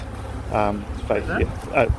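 Honeybees buzz around an opened hive, a soft continuous hum close by, with people talking over it in short bursts.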